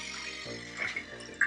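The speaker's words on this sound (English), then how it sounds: "first fill a glass jar with cold water" Cold water runs steadily into a glass jar, a continuous close pour with a rising, filling tone and a small clink near the end.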